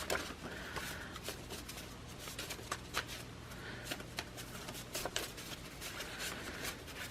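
A deck of tarot cards is shuffled close by, with steady riffling and rapid papery slaps continuing throughout at low volume, heard alone.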